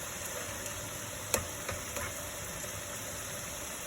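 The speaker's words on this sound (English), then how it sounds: "So leave that to evaporate. Kind of really boiling away now." Red wine boils away in a pan of bolognese meat with a steady hissing sizzle, broken by a couple of sharp clicks from a utensil against the pan.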